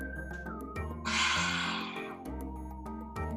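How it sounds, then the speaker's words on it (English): Yoga lion's breath: one forceful, breathy exhale with the tongue out, a rushing hiss lasting about a second, heard close amid faint background music. "as you exhale, you'll stick out your tongue."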